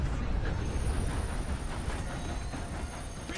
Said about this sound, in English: I'm on the train. Let's get it.